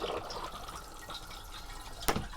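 Water running and trickling in a motorhome cassette toilet as it flushes, a soft steady wash of liquid with a brief sharp click or clunk near the end, fairly quiet and without talk.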